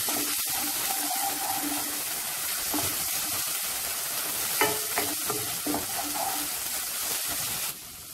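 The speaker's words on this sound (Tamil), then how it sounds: "ஒரு ரெண்டு நிமிஷம் நல்லா வதக்கிடுங்க" Steady crackling sizzle of ingredients for Schezwan fried rice sautéing in oil in a pan, with occasional stirring scrapes, continuous and close throughout.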